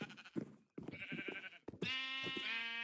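A sheep in the Minecraft video game bleats several times, short wavering calls followed by one longer sustained bleat, clear and close with no talk over them.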